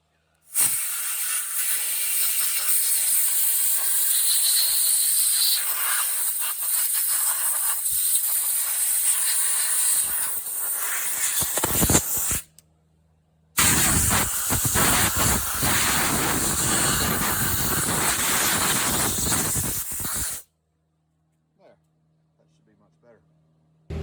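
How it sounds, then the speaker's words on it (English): Compressed air hisses in long steady blasts around the carburetor of a 1965 David Bradley (Sears/Craftsman) chainsaw under restoration, loud and close, with a short pause near the middle before a second sustained burst that cuts off into silence. "So I'll blow some air here."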